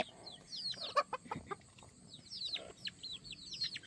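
Chickens cluck and chirp at a low level in a quiet outdoor setting, with several short, scattered calls and a few sharper squawks.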